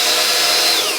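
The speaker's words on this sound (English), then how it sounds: "I'm just going to drill some pilot holes here just to help me out," A power drill bores pilot holes into wood in a garage, giving a loud, continuous high-pitched whine that holds steady for the whole second.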